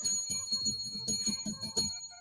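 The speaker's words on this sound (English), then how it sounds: "I had to do my own bell again." A radio host rings a hand bell live on air during a night talk show, giving a series of bright, ringing strikes with sustained metallic overtones, close and fairly loud, with no talking.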